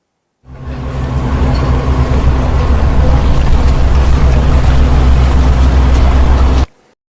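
Ship engine rumble, a loud, steady low drone with a constant throbbing hum, starting abruptly, holding evenly for about six seconds, then cutting off.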